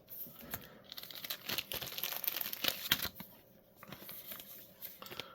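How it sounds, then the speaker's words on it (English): Plastic card sleeves crinkle and rustle as Greninja Pokemon cards are slid into them, close-up irregular bursts of crackling and sliding with brief quieter gaps, no talking. "I'm going to sleeve up the 2 cards first"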